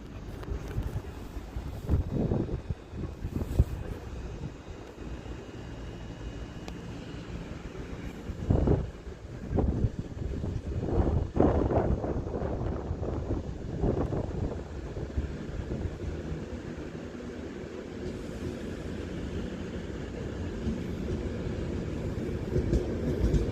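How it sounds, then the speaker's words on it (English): Avanti West Coast Class 390 Pendolino arriving at Birmingham International on the West Coast Main Line, a long rolling rumble with clattering wheel passes and steady wind buffeting near the microphone, no speech. "Now arriving in is going to be the 11:16 Avanti West Coast service to Birmingham New Street from London Euston with another Class 390."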